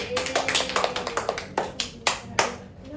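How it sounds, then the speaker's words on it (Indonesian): A small group claps in an Indonesian primary school classroom, starting as a quick scattered patter and thinning out into a few louder, spaced claps before stopping. "beri tepuk tangan untuk Mbak Chandra."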